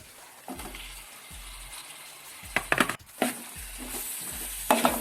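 Close, rhythmic stirring and scraping of a spoon through sizzling onion-tomato masala in a pan, with three medium sliced tomatoes cooking down for egg biryani, repeated strokes with occasional louder clatters.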